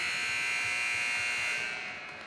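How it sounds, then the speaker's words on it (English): A basketball game buzzer sounds at the end of the first half of a high school girls' game: one loud, steady electronic blare lasting nearly two seconds before it fades. "the buzzer sounds"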